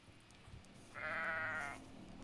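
Sheep in a horror mod video game letting out one short, fairly faint bleat under quiet background ambience.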